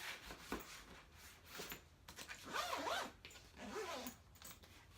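Several quick zipper pulls on a packed travel bag, close up and quiet, coming in short rasping bursts with small pauses between them and no voices.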